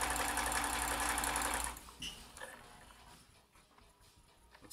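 A vintage Janome Combi DX 502 sewing machine stitches fast with a loud, busy mechanical whir for under two seconds, then stops, leaving faint clicks and quiet room noise.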